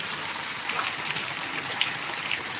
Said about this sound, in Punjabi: ਠੰਡੀ ਠੰਡੀ ਹਵਾ ਨਾਲ ਗੜੇ ਪੈ ਰਹੇ ਆ